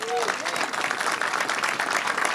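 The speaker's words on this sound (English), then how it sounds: "I think we should give him a round of applause." An audience at a ribbon-cutting ceremony breaks into steady applause, a dense wash of clapping heard fairly close, with a brief voice at the very start.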